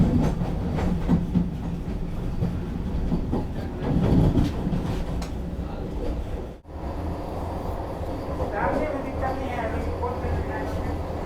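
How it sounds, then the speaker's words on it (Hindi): A Vande Bharat Express train pulls out of Erode Junction station with a loud rumbling roll and clickety-clack, while people talk nearby. "वंदे भारत जा रही है बिल्कुल"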